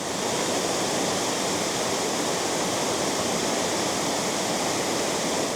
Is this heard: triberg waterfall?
yes